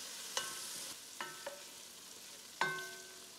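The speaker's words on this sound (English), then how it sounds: "You want to let it cook for maybe a minute or so on the heat" Ginger and turmeric cooking in a pan for a keto curry stew, with a quiet steady sizzle broken by a few sharp clinks of a utensil against the pot.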